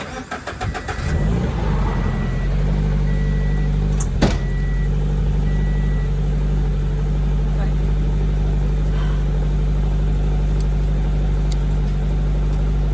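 A car with a weak battery cranks briefly, then catches and settles into a steady, loud idle with a low engine drone that holds for the rest of the clip.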